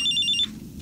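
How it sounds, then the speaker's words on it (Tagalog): A cellphone rings with a bright electronic chime, repeating quickly for a moment and then cut off, clear and close against a quiet night room. "Jesus, cellphone mo yung tumutunog."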